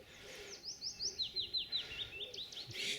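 Birds chirp and sing in short repeated phrases beside the River Swale, a quiet riverside stretch, the calls fairly faint over soft background ambience; cooing pigeons are not clearly distinguishable.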